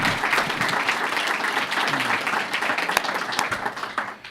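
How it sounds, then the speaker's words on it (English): At a Memorial Day essay awards ceremony, an audience gives young authors a round of applause, steady dense clapping with a few louder individual claps before it thins out at the end. "Why don't we give them one more round of applause?"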